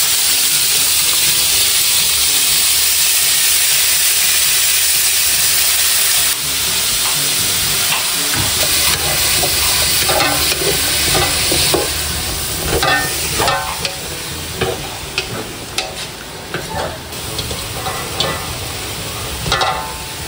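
Chayote sizzles and crackles in a hot pan as it is sautéed with aromatics for pancit habhab, a steady loud frying hiss with stirring scrapes and clinks growing busier toward the end, no voices.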